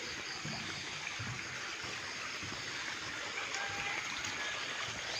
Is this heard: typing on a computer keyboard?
no